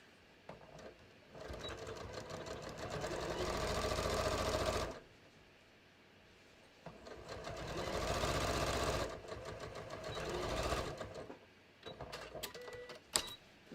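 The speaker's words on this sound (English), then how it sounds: "Okay, I'm going to sew these back together." A sewing machine stitching the back seam of a pair of jeans runs in two long whirring bursts separated by quiet pauses, then a few short stitches and a sharp click at the end.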